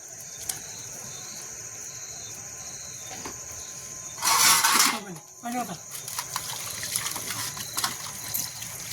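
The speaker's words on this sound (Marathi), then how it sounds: "आणि आता थंड पाण्याने स्वच्छ धुतात" A plucked country chicken being rinsed with cold water: a short splashing gush of water lasts about a second, with smaller splashes after it, over steady insect chirping outdoors.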